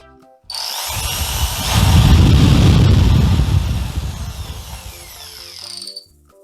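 An electric power drill runs loud and close, revving up as the trigger is squeezed, holding a strong whine, then winding down before stopping.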